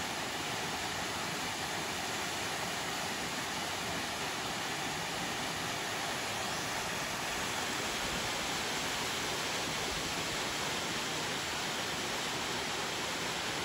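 Steady broadband roar of a waterfall in the Carpathian mountains, a constant, fairly faint rushing wash of falling water with no voices over it.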